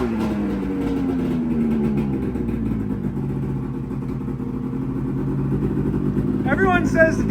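Triple-cylinder snowmobile engine running nearby, a loud, steady buzzing drone with changing pitch, while people talk over it.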